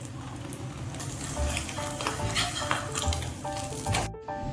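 An omelette sizzles and spits steadily in a hot pan, a loud, continuous frying crackle with occasional scrapes, cut off abruptly near the end.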